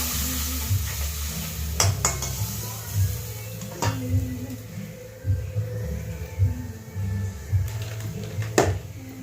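Water from a rinsed bowl going into a pan of sizzling spices (turmeric, Kashmiri chilli powder, green chilli), then stirred: a steady frying hiss with repeated thuds and scrapes of the spoon, close, with a faint hum underneath.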